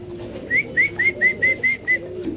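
A series of seven short, evenly spaced rising whistle-like cooing calls from a nearby pigeon, repeated rhythmically over a low background hum.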